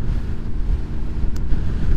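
Strong, loud wind buffeting a motorcycle rider's microphone during a commute in high winds, a continuous low rumbling roar with gusty swells and no talking.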